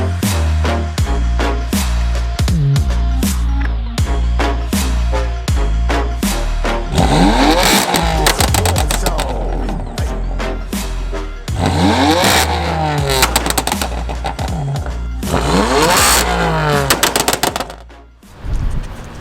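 BMW M4 with a straight-piped modified exhaust, revving in repeated loud bursts that rise and fall in pitch, with crackling pops between revs, close and continuous.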